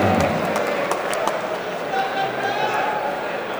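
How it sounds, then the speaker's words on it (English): At a gym fight-night card, an audience applauds a boxer's ring introduction: a broad, continuous wash of clapping and crowd noise with scattered cheers, steady throughout. "Let's have a warm round of applause for Jesse"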